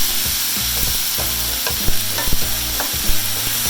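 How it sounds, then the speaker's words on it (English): Chili ingredients sauté in a pan with a steady, loud sizzle, broken by stirring scrapes and a few clacks of the utensil against the pan, and no one talking. "While we're sauteing this, I'll explain a little bit."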